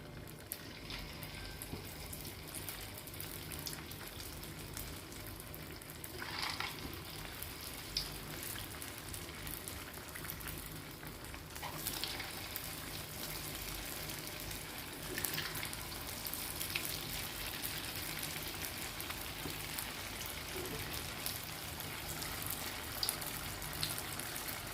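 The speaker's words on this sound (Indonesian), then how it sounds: "Sekarang sudah panas, kita mau goreng. Ini kita masukkan satu persatu." Tofu pieces frying in hot oil sizzle in a steady, crackling hiss that carries on throughout, fairly faint and close, with no talking over it.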